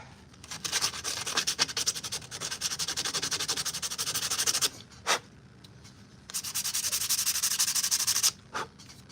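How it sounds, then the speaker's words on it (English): Hand sanding of costume armor pieces, heard as two long stretches of steady, rapid back-and-forth rasping, each ending with a single short scrape, up close with nothing else around. "I want to get the majority of this stuff sanded before I get it glued on"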